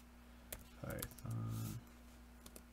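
Commands are typed on a computer keyboard into an Ubuntu server terminal: a few sparse, crisp keystroke clicks over a low hum, broken by short bursts of a voice.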